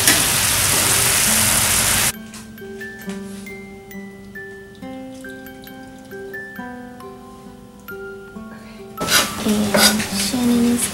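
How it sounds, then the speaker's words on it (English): Liquid fat is drained from a pot of boiled meat while making crock pot lasagna, with metal pot and utensil clatter at the start and end and quieter kitchen sounds and music between. "I'm gonna take this off and drain the fat."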